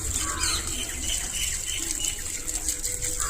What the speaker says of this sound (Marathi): तोपर्यंत मी झाडाला पाणी देतो.